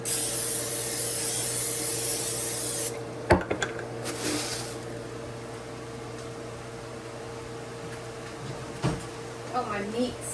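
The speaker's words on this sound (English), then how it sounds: "So I'm going to put some cooking spray on this first." A strong hissing spray of cooking spray onto a cutting board for about three seconds, followed by quieter clatter and handling noises, with faint speech near the end.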